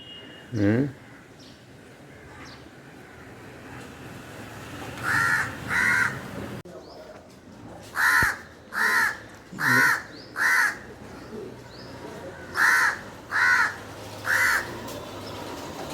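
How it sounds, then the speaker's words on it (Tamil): A crow caws near its nest after its chicks have hatched: a single caw, then repeated bursts of loud, harsh caws in twos and groups of four across the stretch, close by over steady outdoor background noise. "காக்கா குஞ்சு பொரிச்சிருச்சு. குஞ்சு பொரிச்சிட்டு உட்காந்து இருக்குது."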